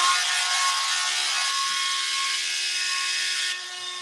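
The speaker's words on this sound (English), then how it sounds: "Why do I keep getting interrupted by that drill?" A power drill runs steadily and loudly for several seconds, with a droning whine that drops slightly in level near the end, with no talking over it.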